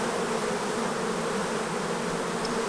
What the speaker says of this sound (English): you can see these bees right in here just fanning their wings